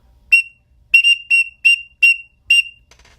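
A series of six sharp, high-pitched chirps from a teal duck call whistle, each short and clear with a bright tone, evenly spaced and up close with no other sound.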